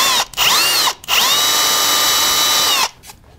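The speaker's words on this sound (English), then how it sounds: "I'm going to use a small drill and just kind of start a hole." A small electric drill bores a starter hole for cup hooks in sassafras wood, a loud high whine in three bursts: a short spin, a brief stop, then a longer steady run that winds down.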